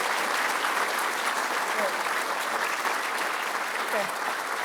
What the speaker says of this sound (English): Can we give a round of applause to Tina?